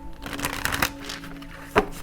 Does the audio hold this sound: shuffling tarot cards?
yes